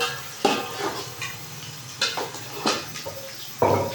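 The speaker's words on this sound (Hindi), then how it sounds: "ये मैं पतीले के अंदर प्याज को भून रही हूँ" Onions frying in a pot with a soft sizzle, broken by loud scrapes and clinks of a metal spoon stirring against the pot at irregular intervals.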